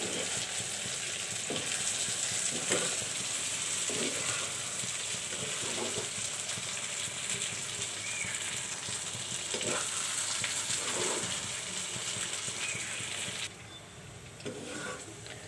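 Beef tripe frying in oil, a dense, continuous sizzle that stays loud and even throughout. Occasional faint stirring knocks sound beneath it, and no one speaks.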